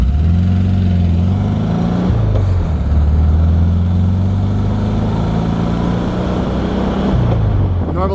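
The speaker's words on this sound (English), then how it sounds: "This is a 1972 VW SuperBeetle Convertible, and this is one of my daily drivers right now." A 1972 VW Super Beetle convertible with manual transmission drives along, its air-cooled engine droning loud and steady, the pitch rising and dropping through gear changes around two and seven seconds.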